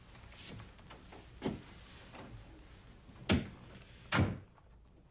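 A door thuds shut indoors, with a few soft knocks and two louder thumps near the end, spaced irregularly over quiet room noise and no talking.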